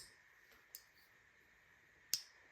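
A Kansept Anomaly folding knife blade clicks closed: two small, sharp clicks about a second and a half apart, the second louder, against a quiet background hiss.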